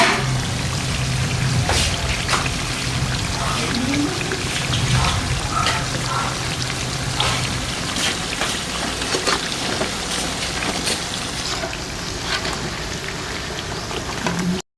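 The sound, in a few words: stirring breadfruit in melting sugar in a pan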